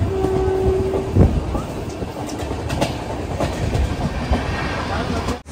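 Humsafar Express pulling into Tambaram railway station, with rumbling wheels and clicking rail joints, a short horn tone near the start, and brief clanks and squeals as it slows.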